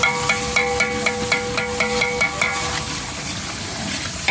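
Yogurt sizzles and fries as it is stirred into hot ghee and masala for a masala daal mash, with rhythmic scraping strokes about every third of a second that soften into a steady frying hiss, close and loud.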